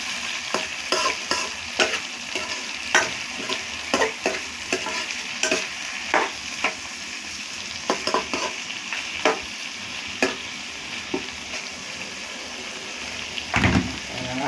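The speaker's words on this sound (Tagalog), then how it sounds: "Lagyan na natin yung karne at kamatis." Meat and tomatoes fry for Pangasinan-style pakbet, a loud continuous sizzle broken by repeated sharp scrapes and clanks of a spatula stirring against the pan.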